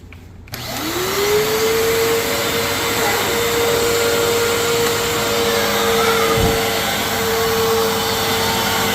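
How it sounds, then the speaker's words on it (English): A vintage vacuum cleaner starts up and draws in spilled coffee. Its loud, steady motor whine rises quickly and holds for several seconds, with a brief low thump partway through. "So what we're going to do is vacuum it up"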